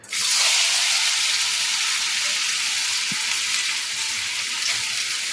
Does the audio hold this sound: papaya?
yes